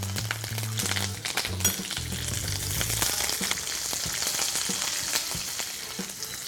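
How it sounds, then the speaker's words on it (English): Finely chopped ginger, green chilies and curry leaves fry in hot oil as a continuous, close, crackling sizzle with scattered pops and a low hum underneath, with no talk. "To this, I shall add finely chopped ginger, few green chilies, some curry leaves"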